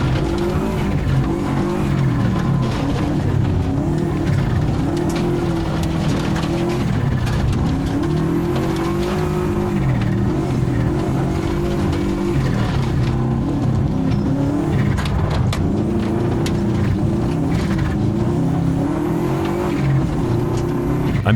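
A race car held in first gear on a circuit drones loudly and steadily throughout, engine note rising and falling with brief tire scrubs, no talk.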